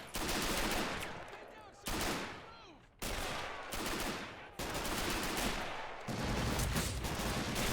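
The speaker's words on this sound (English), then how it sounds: "There's some serious return fire." Heavy return fire crackles in the RobZ Realism Mod during a Rhine River amphibious assault, with loud overlapping bursts of rifle and machine-gun shots that come in several surging waves, each fading into the next.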